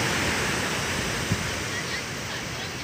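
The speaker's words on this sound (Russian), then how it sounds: "Море действительно штормовое" Stormy sea waves surge in a constant, dense roar of surf and wind, loud and unbroken across the short stretch.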